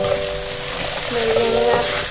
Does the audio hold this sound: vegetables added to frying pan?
yes